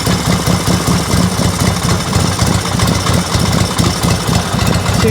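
A 1958 Harley-Davidson Panhead motorcycle idling too low, its engine chugging close up with a loud, uneven, lumpy pulse throughout and no talk over it.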